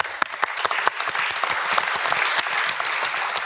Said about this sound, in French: Merci Christophe, on vous applaudit également.